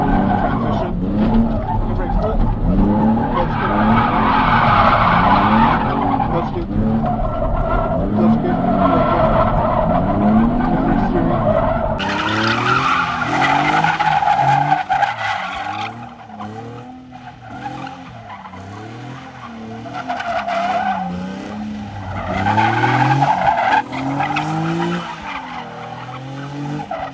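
Car drifting through a figure eight with the e-brake and clutch kick, loud continuous tire skidding and squeal over a revving engine, surging and easing as it transitions, with a voice speaking over it.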